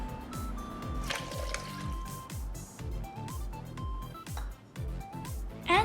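Milk pours for a homemade McDonald's-style mocha frappé over coffee ice cream and ice, a steady close glugging stream with rhythmic gurgles and rising fill tones, continuous and without talk.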